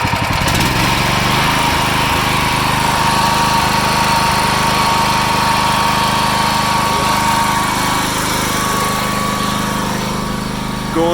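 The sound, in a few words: truck engine starting and running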